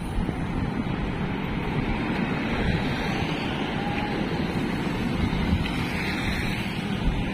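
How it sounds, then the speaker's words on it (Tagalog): Strong, steady headwind roars into the microphone while cycling in Navotas, a continuous heavy buffeting with no voices. "Salubong sa hangin. Sapak na sapak yung hangin eh."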